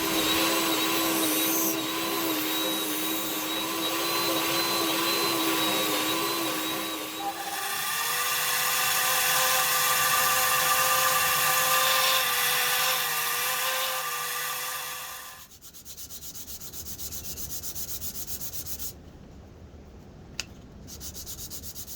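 A power sander working a wooden guitar body, a loud, steady whining buzz with pitch shifts as pressure changes, then stopping, followed by quieter rubbing and handling noises.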